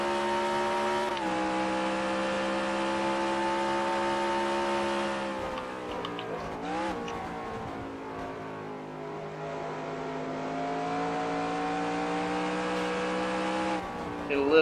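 A race car engine drones at high, steady revs in a NASCAR game, dipping sharply as the throttle lifts around the middle, then climbing and holding again before a brief scrape near the end.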